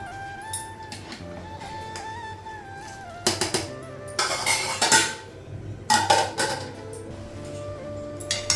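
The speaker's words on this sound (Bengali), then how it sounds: "কড়াইটা একটু ধুয়ে নিব" A kadai (wok) being washed after cooking vegetable curry, with metal clanks, scraping and clinks of cookware in bursts, close and fairly loud over a steady low hum.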